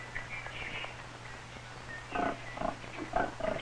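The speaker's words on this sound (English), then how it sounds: "Pigs." Pigs on a farm grunting and snorting in a cluster of short, nasal calls that grow busier toward the end, heard faintly over a steady low hum from an old film soundtrack.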